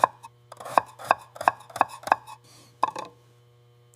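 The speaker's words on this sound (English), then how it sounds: "I chop the carrots." A knife chops carrots on a cutting board in a series of about seven sharp, evenly spaced knocks. The chops sound close, with a low steady hum underneath and a short pause before the last two cuts.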